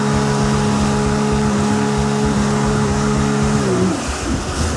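Yamaha JetBlaster PRO personal watercraft doing a wheelie on the water, its engine a loud steady harmonic drone that holds, then drops away near the end into rushing water and splashing.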